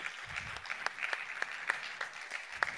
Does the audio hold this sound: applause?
yes